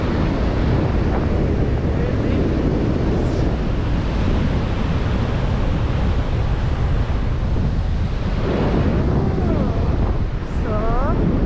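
Strong, steady wind roars on an ocean beach at Manzanita, Oregon, with a constant loud rush and surf under it, blowing continuously without a break.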